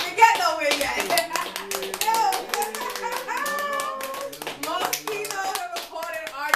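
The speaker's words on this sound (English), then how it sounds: "He over here clapping for himself." A man claps his hands in a quick series of sharp claps that run through the whole stretch, close and loud, with several people talking and laughing over them during a talk-show podcast.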